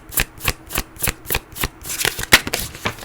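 Fortune cards being shuffled close by, a rhythmic series of crisp riffling bursts, about a dozen in quick succession, loud and with no talk.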